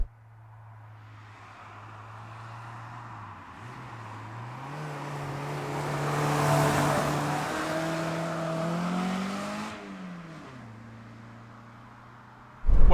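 A Citroen BX 16V driving on a road, its engine note climbing steadily under acceleration to a peak, easing and shifting, then rising again near the end, close and fairly loud.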